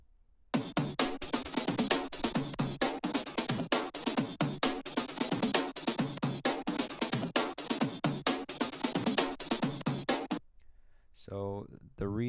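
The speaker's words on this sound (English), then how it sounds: "Then I added another drum break here." A drum break loop layered into a breakbeat track plays tight, rapid repeating hits for about ten seconds, then stops abruptly, followed by a brief swept synth tone.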